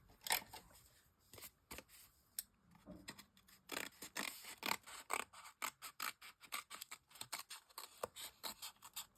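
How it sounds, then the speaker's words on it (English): Scissors trimming away excess material during a crafting session, a quiet close run of irregular snips and rustles that quicken toward the end, with no talking. "let me cut the excess off"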